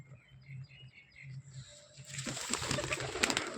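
A long-flying pigeon coos in a slow, repeated low rhythm close by, then a rush of broad noise like rustling or flapping takes over.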